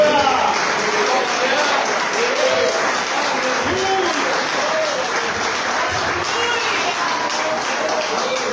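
A church congregation applauds during a worship service, a steady, dense wash of clapping running throughout at an even level, with singing or voices faintly woven underneath.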